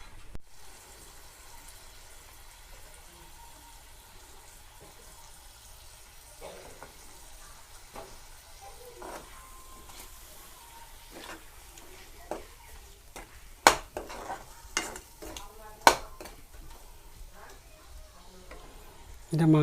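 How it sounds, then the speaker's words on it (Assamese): Broiler chicken meat frying in a pan with spices, stirred with a utensil that gives sporadic sharp scrapes and taps over a faint, steady sizzle, with the clatter growing busier toward the end. "এটা মাংস ভাজি আছে মাই"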